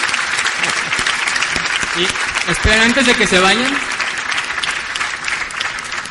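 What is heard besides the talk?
audience applause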